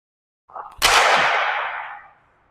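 Ice hockey shot with a Bauer Proto 2 stick on outdoor ice: a brief scrape of the blade, then a single sharp crack of the stick striking the puck that rings out and decays over about a second.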